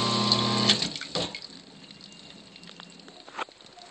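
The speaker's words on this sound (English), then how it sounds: "the sump pump will come up in a few seconds again" A sump pump running a water-filled container hums loudly at first, then gives way to splashing and trickling water with a few scattered drips and gurgles close by.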